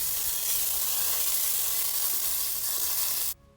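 Very hot cooking oil sizzles loudly and steadily as it is poured little by little into a corn mixture for humitas, a bright continuous hiss that cuts off abruptly near the end.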